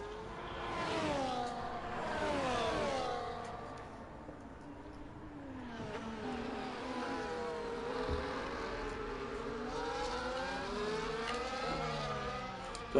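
Racing cars in a video game race on the Circuit of the Americas layout whine past in overlapping waves, engine pitches sweeping up and down as they accelerate and shift, moderately loud and steady throughout without talk.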